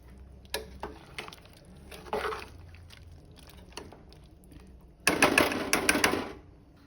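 A wooden ghati churner worked through mutton curry in a pot, giving irregular soft knocks and swishes, then a louder burst of rapid rattling churning near the end.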